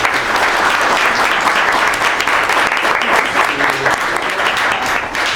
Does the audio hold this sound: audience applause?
yes